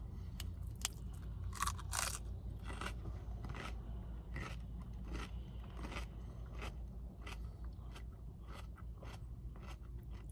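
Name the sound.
crunching lettuce while eating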